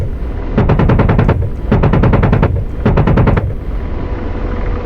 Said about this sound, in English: 10 round burst every pull of the trigger